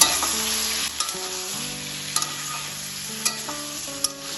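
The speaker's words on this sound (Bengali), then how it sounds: "বেগুনটাও তেলের সাথে ভালোভাবে মিশিয়ে নেব।" Fried brinjal stirred into softened tomatoes and oil in a pan: loud steady sizzling with a series of sharp spatula scrapes and knocks against the metal, close up and without speech.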